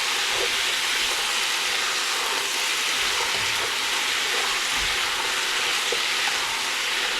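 Pork spare ribs sizzle hard in a hot pan as spirit is stirred in, a dense continuous frying hiss with faint scraping, close and loud with no talking.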